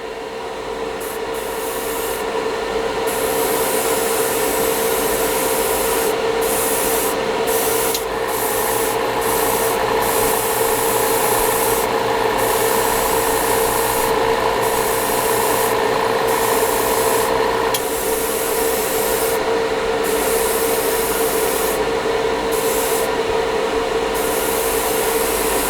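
Revell chrome spray hisses from an aerosol can onto a plastic model kit part, a loud, continuous close-up spray with a faint underlying hum and brief pauses.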